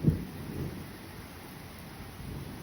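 Thunder from a very close lightning strike during severe weather in Manchester, New Hampshire: a deep low rumble dying away and surging again over a steady hiss of rain, with no voices.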